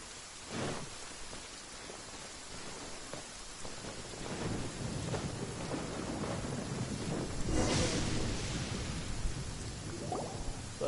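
Steady rain with rolling thunder in the Genshin Impact game, a continuous hiss of falling rain broken by several low rumbling thunder swells, the loudest near the middle, with no talking.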